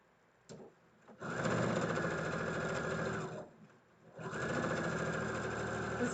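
A sewing machine stitching a flag runs in two steady whirring bursts separated by a short pause, fairly close and alone without talk.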